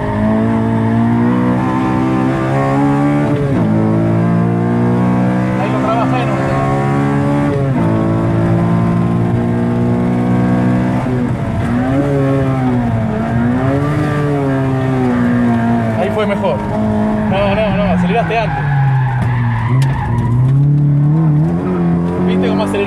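Honda Civic Si engine revving hard through the gears on a race track, rising and falling pitch sweeping continuously with shifts, loud and close throughout, tire and wind noise underneath.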